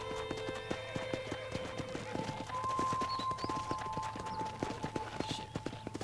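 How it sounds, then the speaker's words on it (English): Horse hooves clip-clop in a steady rhythm in Red Dead Redemption, moderately close, under a faint tonal background and brief talk. "I picked out a fine horse for you."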